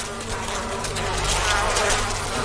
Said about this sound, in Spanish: me invaden las abejas al final